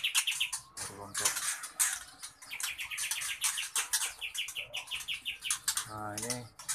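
A white-rumped shama (murai batu) of Aceh origin, an adult breeding bird, chirps and sings in rapid, repeated bright phrases close by, while a person talks over it throughout.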